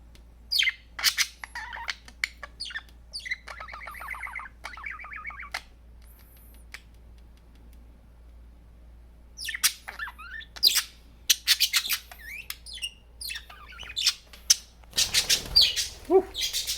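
A budgie at a mirror gives sharp squawks and bursts of chirps in scattered clusters, close and fairly quiet, with brief flutters, in an otherwise quiet room.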